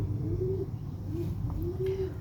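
Rampuri pigeons coo softly and repeatedly in low, rounded calls over a steady background hum, with a faint chirp now and then.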